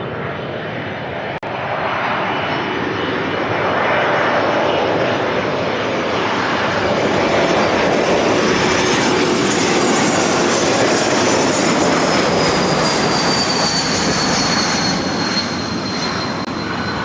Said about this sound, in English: that was Porter, flight 663, coming in from Toronto on an E195 E2